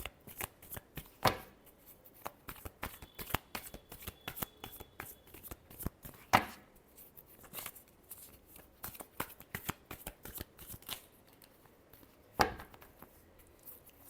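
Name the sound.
shuffling tarot cards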